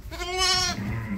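A Țurcană sheep on a farm gives a single loud, close, quavering bleat that lasts under a second and fades into low background noise.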